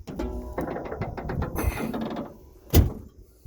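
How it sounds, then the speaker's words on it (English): A 1984 Monte Carlo engine being cranked, a steady mechanical churning and whirring for over two seconds, followed by a sharp louder clunk near the end before it drops away; no speech. "Go ahead and crank it."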